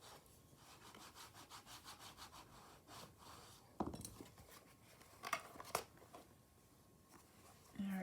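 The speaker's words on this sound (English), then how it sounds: "give it a good burnishing" A hand burnishing tool rubs firmly over a wooden Valentine window box in quick, rhythmic scraping strokes, close and fairly quiet, broken by a few sharp knocks and handling noises.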